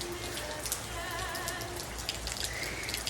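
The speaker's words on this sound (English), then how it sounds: "it gives me a chance to have a nice little rain sound in the background" Steady light rain falls in the background with a soft, even patter of drops and a few faint tones over it.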